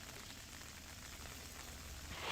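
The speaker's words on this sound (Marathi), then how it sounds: "काल दुपारपासून पावसाची संततधार सुरू आहे" Steady monsoon rain falls in a dense, even hiss in Maharashtra, growing slightly louder at the end, with no voices.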